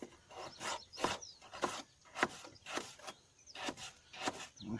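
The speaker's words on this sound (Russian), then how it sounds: "морковочка пока проварится, все потоньше режем." Knife slicing carrots thinly on a board at an outdoor fishing camp, a series of about eight soft, evenly spaced chopping thuds, quiet and close.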